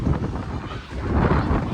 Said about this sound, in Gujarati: વાતાવરણ એકદમ પવન ને એવું ફૂંકાય ને વરસાદ પાક્કું આવવાનું છે